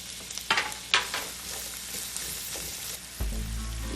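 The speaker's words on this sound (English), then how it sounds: "once the butter is melting, then I'm putting my onions" Onions frying in melted butter in a pan for tuna pasta, giving a steady close sizzle with a couple of sharp crackling bursts early on and a louder, rougher sizzle near the end.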